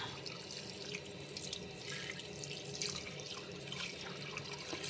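Tap water runs steadily into a kitchen sink while cooking Filipino chicken macaroni soup, a continuous close splashing stream with no talking.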